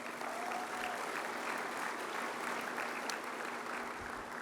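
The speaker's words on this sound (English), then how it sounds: "Give her a round of applause" A conference audience at a large plenary session applauds steadily, dense sustained clapping from a big hall that holds at an even level throughout, fairly distant and without voices on top.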